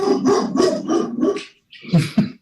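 A dog barks during a selectboard meeting, about four quick close barks in a row, then a short pause and two or three more sharp barks, loud and alone with no talk over them.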